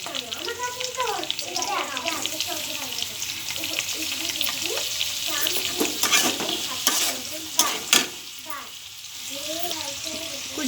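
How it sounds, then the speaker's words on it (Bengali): Chopped garlic and carrots fry in a little oil with a close, crackling sizzle. Repeated stirring scrapes run through it while a person talks over the cooking. "এই তেলের মধ্যে আমি দিয়েছি 2 চামচ তেল আর দিয়েছি রসুন কুচি। এটা একটু লাল লাল করে ভেজে নেব।"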